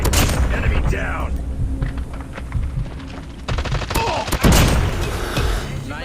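Rapid automatic gunfire and bursts during a competitive shooter video game match, loud and dense, with voices talking over the shots.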